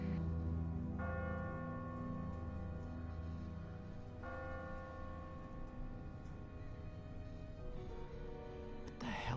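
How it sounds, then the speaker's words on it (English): Church bells toll with a steady, sustained ringing, each strike renewing a rich tonal hum over a low rumble in a tense scene from The Walking Dead game, fairly distant and continuous. "The bells have stopped."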